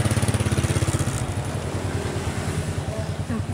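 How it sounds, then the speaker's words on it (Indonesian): A motorcycle engine idles or runs close by for a few seconds with a steady, throbbing pulse, while people talk over it. "Yuk, naik motor nih."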